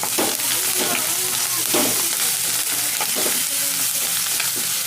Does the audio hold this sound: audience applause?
no